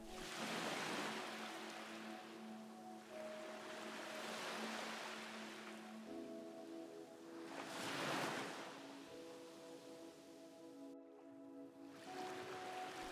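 Ocean waves wash onto a shore in slow swells that rise and fade every few seconds, soft and distant, over gentle sustained musical tones.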